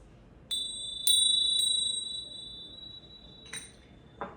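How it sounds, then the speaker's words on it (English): A bell dings three times in quick succession, each clear metallic tone ringing out and slowly fading, followed by a couple of soft clicks. "I'm just going to quickly ding the bell 3 times."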